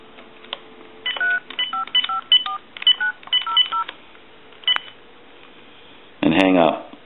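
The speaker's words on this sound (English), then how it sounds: "Then I'm going to dial a number with another phone." A telephone keypad sends a quick series of touch-tone dialing beeps for a number on a second phone line, crisp and close, followed by a short burst of other tones at the end.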